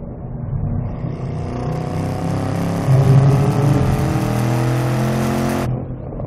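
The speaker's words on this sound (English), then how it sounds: "Motor pulls well all the way to red line." Ford Shelby GT500 or Chevrolet Camaro ZL1 sports car engine revving hard as it accelerates toward redline on a track, a loud, steady, rising roar with an audible gear step midway before cutting off near the end.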